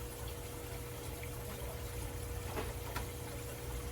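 Beef broth, three and a half cups of it, pours into a soup pot for lasagna soup. A soft, continuous liquid gush runs at low volume throughout, steady and close, with no talking.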